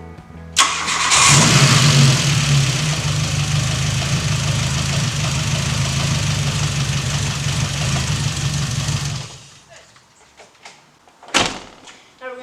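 A Volkswagen GTI engine starts after an oil change and settles into a steady, loud idle for about eight seconds, then cuts off, followed by a few faint knocks and a brief clatter.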